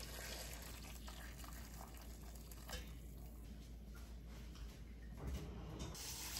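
Hot soy sauce brine is poured over celery and vegetables in a pot, a soft continuous trickling and splashing of liquid that stays faint and steady throughout.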